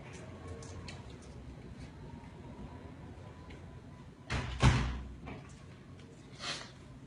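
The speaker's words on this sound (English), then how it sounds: "let me close this door" A door being closed indoors, a single loud thud with a short rattle after a rustle of handling, followed by a fainter knock, with no talking.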